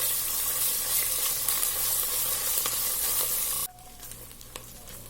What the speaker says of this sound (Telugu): జింజర్ గార్లిక్ పేస్ట్ వేస్తున్నాను. కొద్దిగా ఫ్రై చేసుకోవాలి ఇది.